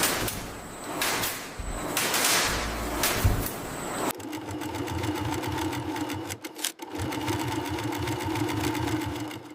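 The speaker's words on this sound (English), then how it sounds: "Strap attachment precision stitching." In a factory, a sewing machine stitches straps onto a product, with a whirring run of rapid needle strokes, a short break, then a second steady stretch of stitching, close and prominent.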